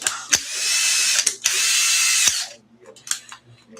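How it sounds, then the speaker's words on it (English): A cordless drill runs in two loud, sustained bursts while an ARRMA RC car is repaired, then cuts out, leaving a few faint clicks and handling sounds. "And the drill dies."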